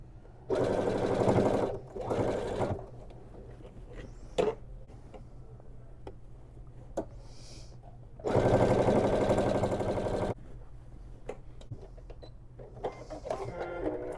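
A sewing machine stitches a crossbody bag in bursts of steady mechanical whirring, one short run and a longer one, separated by quiet pauses with faint clicks and handling taps.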